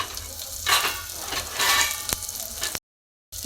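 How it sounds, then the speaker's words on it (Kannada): Chopped vegetables such as beetroot and carrot sauté with curry leaves in a pan, giving a brisk, close sizzle with stirring swells that rise and fall before cutting off abruptly into silence. "ಒಂದು ಸ್ವಲ್ಪ ಕರಿಬೇವು ಹಾಕ್ಕೊಂಡು ನಾನು ಈ ರೀತಿ ಬಾಡಿಸ್ಕೊತಾ ಇದ್ದೀನಿ ನೋಡಿರಿ"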